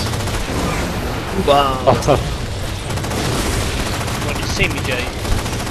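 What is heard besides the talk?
incineration cannon fire in the video game Halo 4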